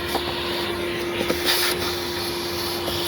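Vacuum applied to a Nissan Sentra EVAP system part, a steady hiss of suction with a constant hum running evenly throughout, close and moderately loud, with a faint bump midway.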